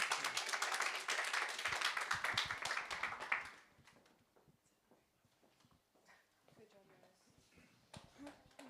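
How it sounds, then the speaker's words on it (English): A presentation audience claps for about three seconds in a dense burst of applause, then it fades into quieter room chatter and scattered taps. "should we clap one more time?"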